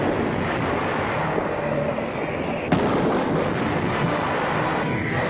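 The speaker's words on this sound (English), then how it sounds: "The rocket launchers can lay down an effective surface barrage in emergencies." Ship's rocket launchers lay down a surface barrage in an old WW2 naval training film: a dense, continuous roar of rushing blasts with one sharper crack midway, loud and steady throughout.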